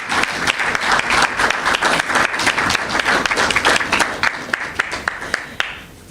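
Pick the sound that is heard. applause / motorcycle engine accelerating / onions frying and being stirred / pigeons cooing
applause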